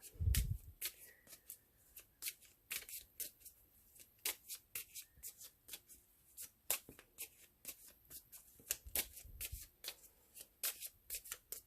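Tarot cards are shuffled close by in quick, soft riffles and flicks, an irregular run of crisp taps and slides at low volume, with a brief thump at the start.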